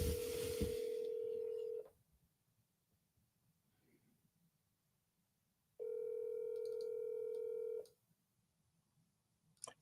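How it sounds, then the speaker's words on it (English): Steady telephone tones sound on a call to a seller: a loud sustained tone for about two seconds, a stretch of near silence, then a second matching tone burst before quiet returns, with no talking. "We'll go ahead and dial this Paul guy."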